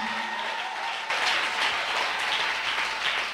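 A church congregation applauding Jesus Christ, a burst of clapping that swells after a second and continues steadily, moderately distant with no clear talk.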